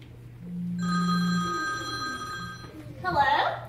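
A telephone rings with a single bright electronic trill lasting a couple of seconds, with a low hum beneath and a voice starting up just after it.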